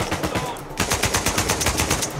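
Rapid automatic AK rifle fire in Uncharted 4, a loud, close burst of evenly spaced shots that starts abruptly and keeps a fast, steady rhythm to the end.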